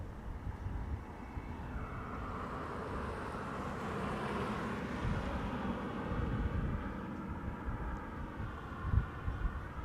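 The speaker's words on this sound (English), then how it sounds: "Air Canada is probably going to be the first airplane taking off from the Polderbaan over here" An Air Canada airliner takes off from the Polderbaan runway at Amsterdam Schiphol, a steady, distant broadband jet roar rising and holding for about ten seconds with wind noise and no talk.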